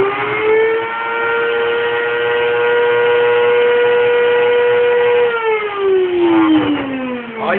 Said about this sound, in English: And put it on the blender. Now, let's blend.